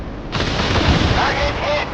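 Naval gunfire striking a target in the warship game Force of Warships: a loud, broad roaring blast bursts in early and holds for over a second before easing off.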